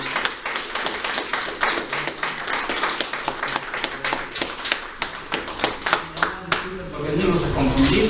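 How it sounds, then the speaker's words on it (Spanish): Applause from an audience at a community meeting, a loose, uneven patter of claps with distinct individual hand strikes, giving way to voices and background noise toward the end. "les damos un fuerte aplauso"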